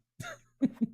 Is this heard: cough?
yes